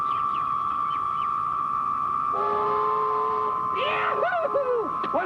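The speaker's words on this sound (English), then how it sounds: "Train approaches." Train approaching with a sustained horn blast that swells, then layered whistle tones bend and waver near the end over a low rumble of rolling wagons.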